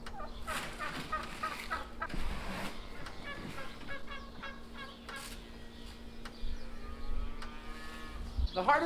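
Turkeys gobble and call repeatedly on a farm at feeding time, with cattle-like lowing and a steady mechanical hum beneath the bird calls.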